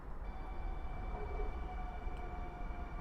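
Two coupled Flirt ER160 electric multiple units on a passenger service depart Warszawa Główna for Łowicz, a steady low rumble with a faint sustained tonal whine throughout.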